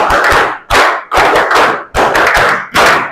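A group of students claps in a rhythmic classroom exercise, with four crisp, evenly spaced bursts of loud, close clapping, each a quick flurry of claps that ends in a short gap.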